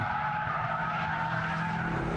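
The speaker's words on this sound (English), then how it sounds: "Tail-happy cornering thanks to computers that split the torque between the rear wheels to minimise understeer." Tyres on a Mitsubishi Lancer Evolution VIII squeal in a steady, sustained screech as the car corners hard, tail sliding, with engine noise underneath and no talk.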